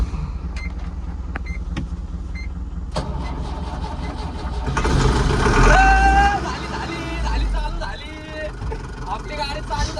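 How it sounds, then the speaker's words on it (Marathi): A car engine cranks on the starter and catches, roaring up louder mid-clip then settling to a steady idle, with speech and some background noise around it. "आपली गाडी चालू झाली"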